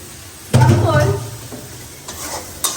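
Food is stir-fried in a pan in a home kitchen, a sudden loud sizzle and scraping stir that then fades, with a brief voice and a couple of light utensil clicks.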